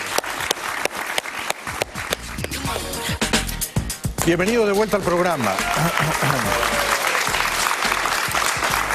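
Studio audience applause on a Spanish-language talk show, a swell of clapping rising after someone speaks a short welcome, then filling the room steadily to the end.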